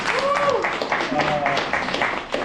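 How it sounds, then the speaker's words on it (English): A crowd at an exhibition opening gives a round of applause, with dense clapping and a few cheers or whistles held steady for the whole stretch, close and fairly loud. "Round of applause for Tony."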